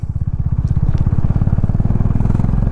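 Near motorcycle engine on a hill road to a mountain village, a loud steady rhythmic chug of firing pulses that holds an even pace throughout.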